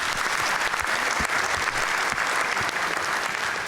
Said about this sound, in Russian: бурные продолжительные аплодисменты